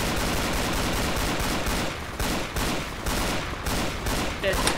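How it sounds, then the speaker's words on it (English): Gunfire in a dinosaur survival game comes as dense, overlapping bursts of shots that rattle on with brief gaps. Friends talk now and then underneath. "Toad is shooting things"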